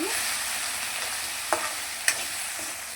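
Turmeric, mint and green chillies fry in a pan with a constant close sizzle, broken by two brief sharp clinks of a spoon against the pan.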